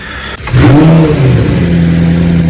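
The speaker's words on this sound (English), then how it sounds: "the car itself is a beautiful sound" A 2018 McLaren 720S engine revs up sharply after a brief quiet start, then holds a loud, close, sustained droning growl with a steady tone.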